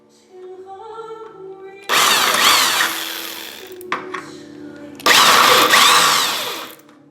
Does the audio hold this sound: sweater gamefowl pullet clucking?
no